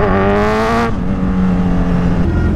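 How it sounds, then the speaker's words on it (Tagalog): Loud, close vehicle engine noise from inside a Toyota HiAce in highway traffic in Caloocan, with a steady droning hum and rising and falling tones. "Ito yung traffic kanina, grabe, bugbog na tong highways na to."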